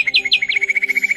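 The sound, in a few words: birds chirping at Karnala bird sanctuary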